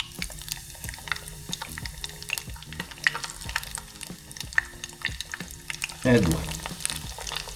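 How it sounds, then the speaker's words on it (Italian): Mediterranean horse mackerel fillets fry in plenty of hot oil with a steady crackling sizzle, swelling into a louder, fuller burst of spitting near the end, while a voice talks over the cooking. "A questo punto mettiamo a scaldare un po' di olio abbondante. Quando sentiamo che inizia a sfrigolare,"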